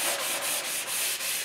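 Steady back-and-forth sanding strokes rub lightly over a wooden headboard coated in chalk paint, about six even passes in a loud, close, continuous rasp with no talk.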